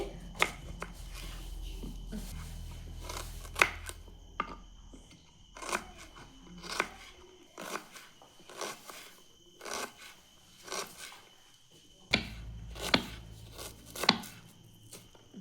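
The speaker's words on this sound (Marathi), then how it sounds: "तर मी कांदा कापून घेते" Onion being cut with a knife on a board for a Maharashtrian black-masala chicken, heard as a steady series of close, sharp chopping knocks with short pauses between bursts, alone with no talk.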